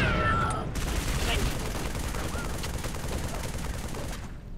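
Rapid bursts of alien pistol fire in Halo played on the highest difficulty, a dense continuous crackle of shots filling the scene without pause, with a brief high squeal at the start.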